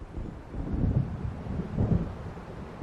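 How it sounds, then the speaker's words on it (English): Thunder from an approaching storm in the game Alan Wake rolls in two low, swelling rumbles over a windy background, with no voices heard. "It seems there's a storm coming."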